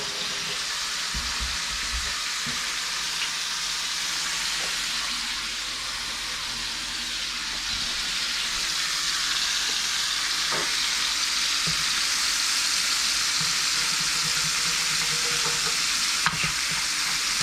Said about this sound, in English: I'm just looking to kind of sear the top a little bit just to kind of get some heat on it.